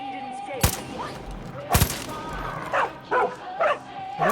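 Dog barking, yipping and whimpering in the video game Far Cry 5: two loud sharp barks, then a series of shorter whines and yelps over low game ambience.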